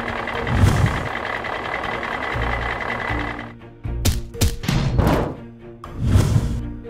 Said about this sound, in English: Container truck.